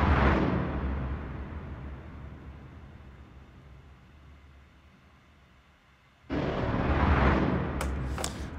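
A Spitfire Audio synth plays a dark horror-track texture: a dense, noisy wash that slowly fades almost to nothing, then swells back abruptly and loudly with a few sharp high accents at the end.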